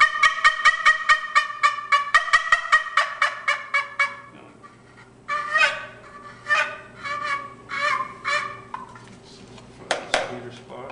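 A handmade wooden box turkey call is scraped in a rapid run of harmonic yelps, then slower, spaced clucks and yelps follow, loud and close, with a faint pot-like rattle underneath.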